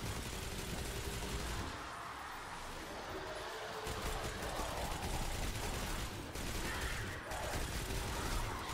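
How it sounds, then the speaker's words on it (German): A minigun in the sci-fi shooter Destiny 2 firing in a continuous dense rattling stream, loud and steady throughout with only brief dips, and no talking over it. "Hier die Waffe ist echt geil. Eine Minigun, wie man sieht."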